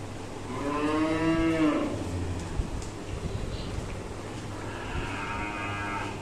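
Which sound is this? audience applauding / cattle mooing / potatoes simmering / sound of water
cattle mooing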